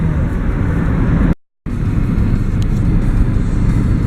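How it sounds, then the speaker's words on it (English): Road traffic rushes past in a close, loud, continuous roar as a motorcycle rides between two lanes alongside a car, with a brief dropout in the middle. "There's a motorcyclist driving in the middle of the two lanes."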